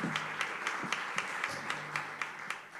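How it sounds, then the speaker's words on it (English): A crowd at a startup pitch competition claps for the judges, a steady wash of many hands with scattered sharper claps standing out across the short stretch, no talking over it. "How about a round of applause and thank you for our judges"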